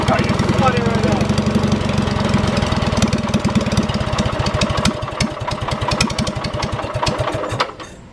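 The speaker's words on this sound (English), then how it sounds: "I think the carburetor's flooding it out. It's flooding right out." A small tractor engine with a flooding carburetor runs roughly and loudly, its irregular chugging firing pulses continuing steadily before cutting off near the end, close by.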